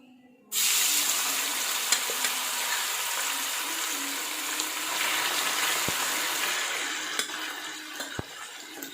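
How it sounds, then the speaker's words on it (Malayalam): Sardines dropped into hot sesame oil, a sudden loud onset of close, dense sizzling that stays steady and bright throughout, with a few faint clicks and no talking. "എണ്ണ നന്നായി ചൂടായിട്ടുണ്ടേ നമുക്ക് കുറേശ്ശെ മീൻ ഇട്ട് കൊടുക്കാം"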